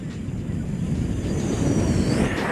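Someone vocally imitating a Boeing jet flying over, a rising, swelling roar with a thin whistling whine sweeping upward, building steadily louder over a couple of seconds.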